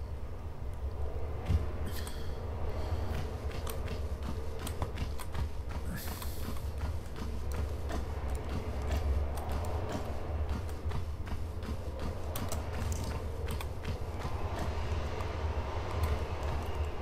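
A heavy stone door grinds open after a lever is pulled in the Colosseum level of Tomb Raider 1, a long continuous rumbling scrape with creaks and clicks, steady and close.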